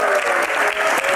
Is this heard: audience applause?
yes